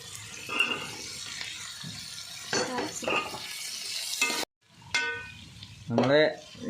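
Capsicum and onion sauté in a pan with a soft sizzle and intermittent stirring scrapes, close by, while people talk over the cooking.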